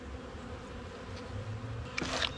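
Honey bees hum in a steady low drone around an open hive while it is fed fondant and pollen, with a brief rustle of handling near the end.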